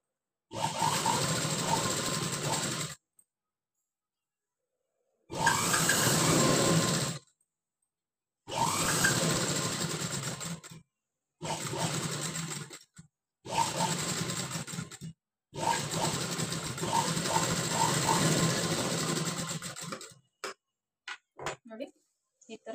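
A sewing machine stitches the collar of a high-neck blouse onto canvas in several bursts of fast mechanical whirring broken by abrupt silences, while a voice talks over the work.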